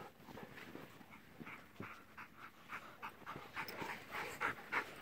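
Several dogs, including a Malinois, a German Shorthaired Pointer, a Border Collie and a Boxer, pant rapidly and steadily while playing close by, with a few soft whimpers mixed into the quick rhythmic breathing.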